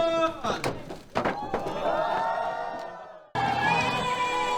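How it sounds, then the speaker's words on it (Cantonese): A group at a university orientation camp fire-circle gathering cheers and whoops together in loud, overlapping shouts that swell, cut off abruptly, then burst back in at full strength. "俾啲歡呼聲"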